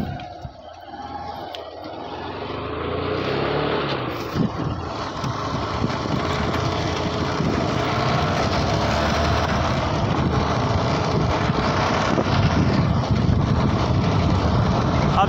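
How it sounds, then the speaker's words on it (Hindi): A motorbike engine hums steadily under wind noise as the rider eases off the throttle and presses the rear brake to slow toward a stop. "अब जैसे रोकना है तो रेस पूरा कम कर दो और पीछे का ब्रेक दबा दिया है।"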